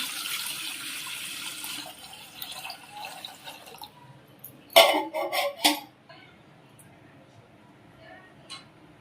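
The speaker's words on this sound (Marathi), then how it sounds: "टोप ठेवलाय त्यामध्ये आपल्याला पाणी ॲड करायचं आहे" Water is poured from a tap into a cooking pot set out for boiling eggs, a soft running splash with a burst of louder metallic clatter and drips midway, heard close in a home kitchen.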